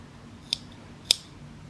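Two short, crisp scissor snips cut through a crochet yarn tail, close and distinct against a quiet background, with a pause of about half a second between them.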